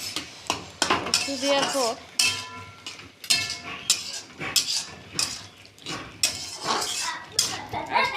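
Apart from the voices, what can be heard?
stirring a simmering curry in a pot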